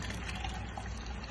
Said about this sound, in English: You just got to strain it.